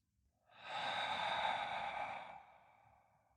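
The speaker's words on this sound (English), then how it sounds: "Take 2 more cleansing breaths like that." A long, slow cleansing breath is exhaled through the mouth with a soft sigh during a hatha yoga class, a single breathy whoosh that swells and fades, quiet and close with no speech.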